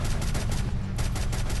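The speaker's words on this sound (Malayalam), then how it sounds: "എടാ വെടി വെക്കല്ലടാ." Gunfire rattles in a gang-war video game, loud rapid repeated shots running continuously through the short stretch.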